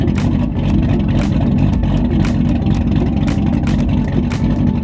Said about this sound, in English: I absolutely love the sound of a cammed engine.